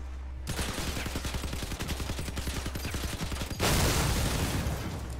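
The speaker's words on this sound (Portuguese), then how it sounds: "Agora vamos testar atirando com todas elas junto." Rapid machine gun fire in the video game Crossout, an M-39 machine gun, rattles continuously and loudly in a fast, dense rhythm, then swells into a heavier roaring burst as several guns fire together.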